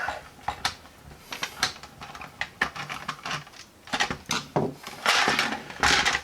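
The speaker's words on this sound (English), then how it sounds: "And then I think we have to take this screw out of here." A screw being worked out of a small watch movement, heard as close, fine metallic clicks, scrapes and ticking taps in irregular bursts, with no talking.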